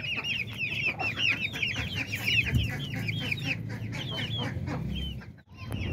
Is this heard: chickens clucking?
yes